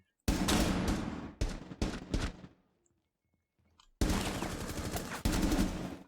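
Rapid automatic gunfire in Rainbow Six Siege, two loud sustained bursts split by a short gap of near silence, the first burst breaking into a few choppy volleys before trailing off.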